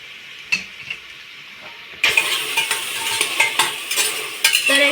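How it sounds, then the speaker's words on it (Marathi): Onions for biryani frying in a pan: a quiet start with a few clinks, then a louder, constant sizzle with rhythmic spatula scrapes and knocks against the pan, heard up close. "कांदा लाल घेते भाजून घेते"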